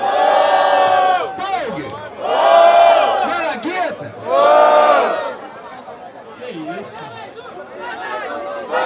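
Crowd at a Brazilian freestyle rap battle in an outdoor tank venue, erupting in loud rhythmic chanting and shouted cheers in three big surges, with an MC hyping the crowd between them.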